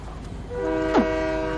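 A train horn sounds in a video game, a steady multi-tone honk starting partway through and holding to the end, with a brief sweeping tone over it and low background rumble.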